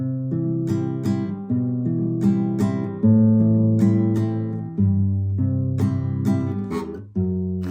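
An acoustic guitar strums the chord progression of a song, moving through C shapes with rhythmic strums and ringing sustain, clear and close with no voices.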